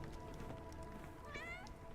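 A cat meows in the game Sherlock Holmes: The Awakened, one short rising mew, faint and set back in the mix over low background ambience.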